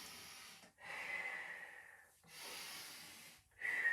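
Pilates monkey squat breathing, several long airy inhales and exhales alternating steadily, close and fairly soft, with no talking.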